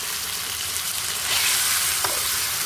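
Ginger garlic paste fries in a pan with a steady, close sizzle and a few soft stirring scrapes, alone without talk.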